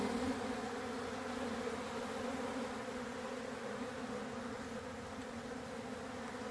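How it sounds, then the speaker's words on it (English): Steady, dense buzzing of many bees at a feeder fills the air, a continuous drone with no pauses and no voices. "I don't know which feeder has more bees."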